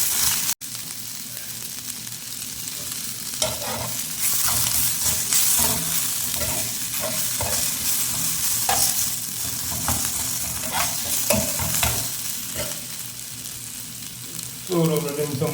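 Tomatoes with green chillies fry in hot oil in a pan, a steady dense sizzle broken by the irregular scrape and clatter of stirring, close and fairly loud throughout, with a fresh burst of crackling near the end.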